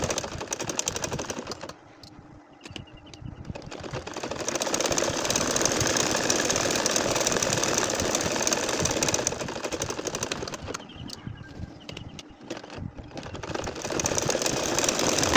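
An ordinary household sewing machine stitches a star-flower nakshi kantha embroidery with its thread hanging loose, running in a fast, steady rattling drone that stops briefly twice before resuming.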